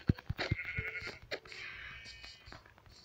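A sheep in Minecraft bleats in the middle of the clip, a wavering baa heard faintly behind game clicks and thuds.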